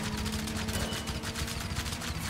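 Rapid gunfire in the LEGO 2K Drive video game, a dense, continuous burst of repeated shots close up and loud, with a steady low engine hum beneath.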